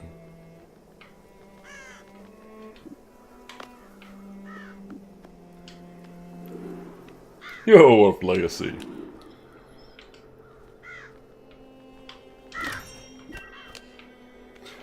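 In the video game Child of Light, a crow gives one harsh, raspy caw burst midway through, with quieter game sounds and occasional talk around it.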